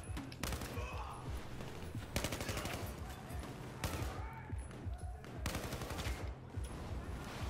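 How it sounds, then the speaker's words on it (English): Bursts of rapid gunfire from a weapon set to burst fire in Battlefield 4, loud and close, coming in several dense volleys separated by brief gaps, with a voice speaking over parts of it. "This was on burst fire."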